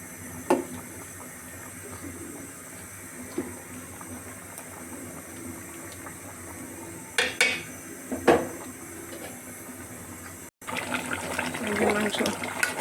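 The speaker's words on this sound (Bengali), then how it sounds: "মাংস কষাচ্ছি, দেখুন।" Sacrificial meat is stirred with turmeric, chilli, coriander and cumin in a pot, with a soft steady sizzle, occasional metal spoon clatters against the pan and a louder burst of frying near the end.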